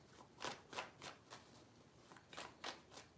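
Tarot cards being shuffled in quick riffling bursts, several soft rapid flutters spaced across a few seconds, close and fairly quiet.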